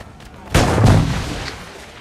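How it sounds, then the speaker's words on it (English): A sudden heavy boom bursts in after a quiet start, then rumbles and slowly fades out, an explosion in the video game Assassin's Creed IV: Black Flag. "Wow, that was a big explosion."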